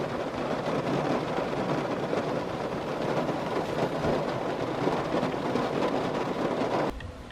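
Steady rain falls outdoors near a cabin, a broad continuous wash of sound holding fairly loud and even for about seven seconds before easing suddenly at the end; no clear thunder crack stands out.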